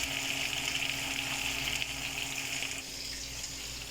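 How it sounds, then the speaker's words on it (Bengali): Fish frying in a pan of hot oil while fish curry is being cooked, a steady dense sizzle that carries on without a break and eases off slightly toward the end, close and fairly loud, with no talking. "মাছ ঢেলে দিলাম, ভাজা শুরু হয়েছে"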